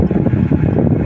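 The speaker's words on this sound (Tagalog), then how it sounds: "Mahangin na alikabok pa." Gusty wind blowing dust through an outdoor area in rough, dusty weather, a steady broadband roar buffeting the microphone with no voices over it.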